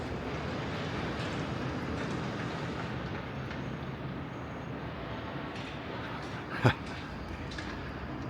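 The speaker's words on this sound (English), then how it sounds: "The noise you can hear is that construction over there." Steady, loud construction din, a dense rumbling wash of machinery noise that barely varies, with one sharp bang near the end.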